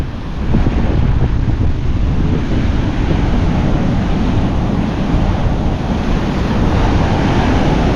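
Big ocean waves crash and roll in a strong wind at a coastal village, a loud continuous roar with heavy wind buffeting the microphone throughout.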